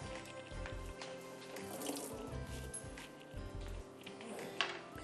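Soaking water is poured off softened dried apricots into a sink, making a faint, continuous splashing trickle with a few drips, and no voices.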